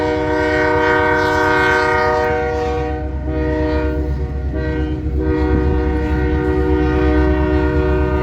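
Westbound freight train pulling loaded corn rolls past close by, a steady loud rumble with strong tonal hum throughout and faint clickety-clack, no talk.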